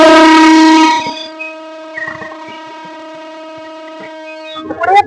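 A Narsingdi commuter train departing sounds a loud sustained horn that holds a steady tone and then fades, with faint rattling and clatter around it and a short burst of noise near the end.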